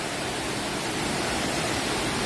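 Tat Sae waterfall near Luang Prabang, Laos, a modest falls, pours in a steady, dense hiss of falling water, close and unbroken throughout.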